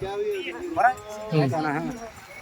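Bulls low and call at a crowded cattle market in Nalegaon, Latur, with a couple of short nearby moos rising and falling over faint background chatter.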